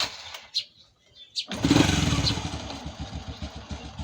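A Honda Wave motorcycle just after an oil change: a couple of brief starter attempts, then the small engine catches and settles into a steady, close idle.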